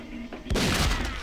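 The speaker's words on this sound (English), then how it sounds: "Look at the hand cannon go." A hand cannon fires in the shooter game House of the Dead: Overkill, a single loud booming blast with a rumbling tail, preceded by quieter game ambience.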